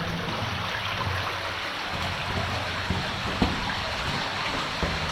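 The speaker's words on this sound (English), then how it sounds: "it's very cavernous, with the water running through" Water runs steadily through a cavernous underground slate mine in Wales, a continuous close rushing and trickling wash with a few faint knocks and drips and no talking.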